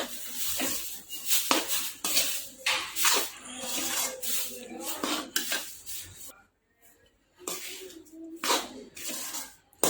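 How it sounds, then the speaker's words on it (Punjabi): A spoon scrapes and stirs ground almonds into roasted chickpea flour and khaskhas panjiri in a pan, in repeated close gritty strokes with a short silent pause midway. "ਹੁਣ ਆਪਾਂ ਇਹਦੇ ਵਿੱਚ ਬਦਾਮ ਪਾ ਦਵਾਂਗੇ ਪੀਸੇ ਹੋਏ ਬਦਾਮਾਂ ਨੂੰ ਮਿਕਸ ਕਰ ਲਵਾਂਗੇ"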